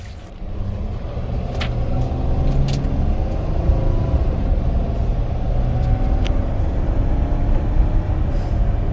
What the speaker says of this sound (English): let's get back in the van and get going.